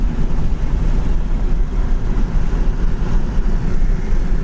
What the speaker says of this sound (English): There's our kick down, passing gear.